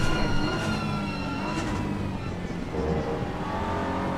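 BMW and Audi race cars cornering at Suzuka circuit, a continuous dense engine roar with shifting pitch as they brake and accelerate, loud and steady throughout.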